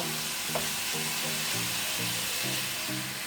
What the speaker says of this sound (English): while the shrimp is sizzling